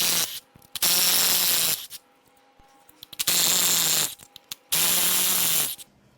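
Ratchet loosening front timing cover bolts on a BMW M5 S63Tu twin-turbo V8 under teardown, four close, loud bursts of rapid buzzing clicks separated by short quiet gaps.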